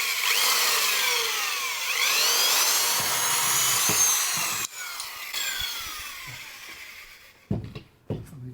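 Hole saw on a power drill cutting through wood, a loud continuous whining grind with wavering pitch that drops off near the end into a few sharp knocks and short bursts.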